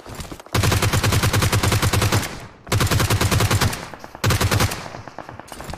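Three long bursts of rapid automatic gunfire from the video game PUBG Mobile, loud and close, with short gaps between them and no talking.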